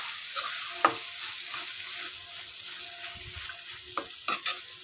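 Cabbage curry with salt, chili and coriander powder being mixed in a pan, giving faint, sparse scraping knocks of a spoon over a soft background hiss with no talk.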